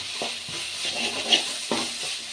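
Masala powder sizzling and frying in hot oil in a pan for Tamil egg rice, a steady close crackle with a few stirring scrapes and clinks.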